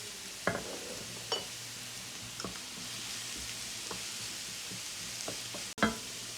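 Carrots sizzle steadily in a hot pan while a utensil stirs them, with a few sharp scrapes and knocks against the pan rising above the constant frying hiss.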